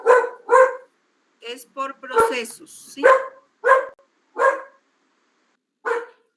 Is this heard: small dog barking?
yes